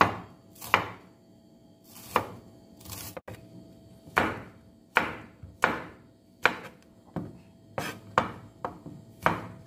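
A knife chops shallots and garlic on a cutting board, a steady series of crisp, close thuds roughly one every half-second to second, with no talk over it.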